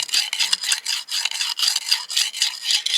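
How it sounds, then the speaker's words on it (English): A slate knife blade scrapes steadily back and forth across a sharpening stone in quick, rhythmic rasping strokes, close and continuous. "And just keep grinding."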